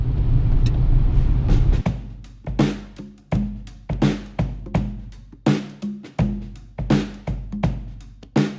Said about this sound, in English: We drive in the car!